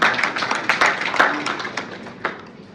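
Audience applause at a hackathon launch ceremony in Dakar, a loud burst of clapping from a crowd that gradually thins out and fades over a few seconds.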